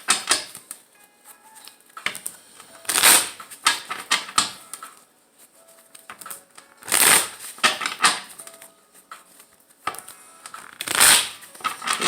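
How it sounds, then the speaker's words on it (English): Tarot cards being shuffled and riffled in several bursts, close and crisp, with quieter handling sounds in between. "I'm going to shuffle here."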